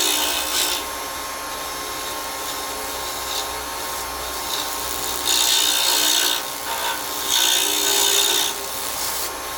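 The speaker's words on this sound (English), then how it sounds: "Here I'm using a 1/4-inch parting tool to bring my pen blank down to the bushing" A quarter-inch parting tool cuts into a spinning cherry wood pen blank on a lathe, a continuous close scraping hiss over the motor hum, swelling in louder bursts as the tool bites deeper.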